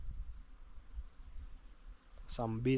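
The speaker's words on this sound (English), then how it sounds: "I can hear like some bees" A faint, steady bee buzz hums under village outdoor background noise, then a voice starts speaking near the end.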